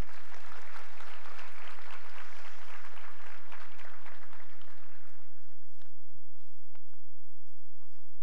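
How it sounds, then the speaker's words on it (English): Audience applause, dense and sustained for about five seconds, then thinning to a few scattered claps as it fades. "we want to give you another wonderful round of applause, please."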